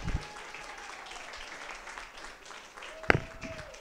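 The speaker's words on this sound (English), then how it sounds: "just wanted to give you a big round of applause" An audience at a demo day claps for a presenting team, a moderate spread of applause with a whoop near the end, a person speaking close by over it.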